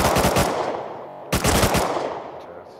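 Automatic AK rifle fire in the console edition of the survival game Rust: two loud, close bursts of rapid shots, the first about a second long, a short gap, then a second burst that trails off.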